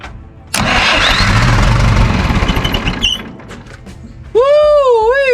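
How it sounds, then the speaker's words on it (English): A John Deere 3020 tractor with a newly fitted high-torque starter cranks briefly and fires almost at once, then runs loud and rough close by before a sharp whining tone cuts in near the end. "the John Deere does seem to be starting a lot better. It turns over and fires up almost instantly."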